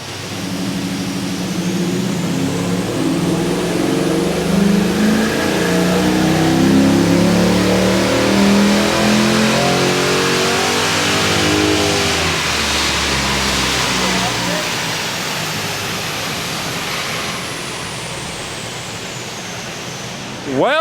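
A cammed LS1 VE Commodore with an upgraded exhaust revs through a long pull on a dyno, its engine note climbing and roaring loudly before dropping away, with people talking over it.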